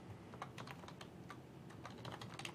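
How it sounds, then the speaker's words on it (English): Keys on a computer keyboard clatter in quick irregular bursts while a PowerShell command is entered, soft and close with brief pauses between runs. "And what command are you typing?"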